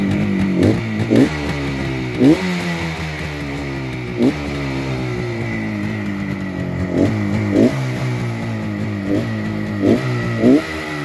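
A 1972 Suzuki T500 Titan two-stroke street bike engine runs steadily up close, with a buzzy, uneven idle broken by several short throttle blips spread across the stretch.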